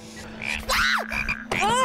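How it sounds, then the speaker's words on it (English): A frog croaks loudly and close by in a house, giving several rasping, pitch-sliding calls in quick succession with brief pauses between them. "Shoo, frog!"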